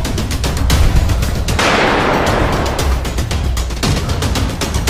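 Gunfire in a Filipino drama scene, dense and loud with rapid repeated shots and bursts running through the whole stretch, including a sustained rushing blast in the middle, with no talking.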